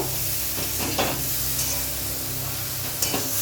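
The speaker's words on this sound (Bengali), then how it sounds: "আলুটা এবারে হালকা করে ভেজে নেব।" Potatoes fry lightly in a pan for a vegetarian aloo dum, giving a steady close sizzle with a few soft stirring clinks and scrapes.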